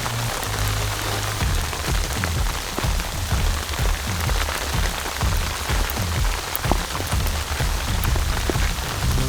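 Hail or sleet falling outdoors on a cold spring day during a bear hunt in Wyoming, a dense, steady patter of countless tiny impacts on surfaces, loud and close with no talking.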